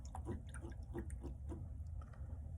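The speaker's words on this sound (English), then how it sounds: "you're gonna go ahead and wash that brush clean" A paintbrush is swished clean in a water cup, giving faint rhythmic sloshing and dripping strokes at a quiet level.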